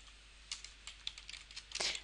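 Quiet keystrokes on a computer keyboard while entering a numbered list in Microsoft Word, a run of separate taps over about two seconds ending in a slightly louder cluster of keys.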